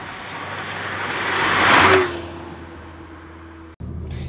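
Abarth 595C Turismo turbo engine accelerating in a soft-top car, heard from inside the cabin, rising in a muted whoosh and rev to a peak, then easing off.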